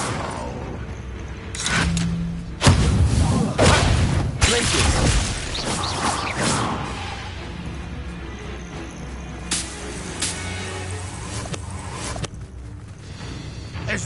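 A Bombarda explosion spell cast in Hogwarts Legacy lets out a loud, close blast with a rumbling tail, followed by quieter game effects, with voices heard around it.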